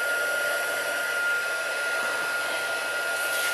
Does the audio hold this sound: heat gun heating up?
yes